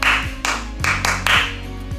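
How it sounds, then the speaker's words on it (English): A group of primary school children clap back a rhythmic pattern in unison, several sharp claps in quick bursts filling a classroom, fairly loud and close. "the children re-clap the same clap"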